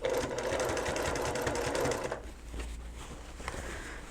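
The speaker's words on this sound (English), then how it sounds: "now I'm literally going to sew just on the inside of that last stitching line" Sewing machine stitching a reversible fabric bucket hat, a fast, close mechanical chatter for about two seconds, then a softer, slower run of stitches with light clicks.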